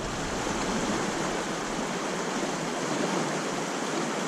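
Fast-moving water of the Pecos River in New Mexico rushes in a loud, steady broadband roar that stays constant throughout, with no voices over it.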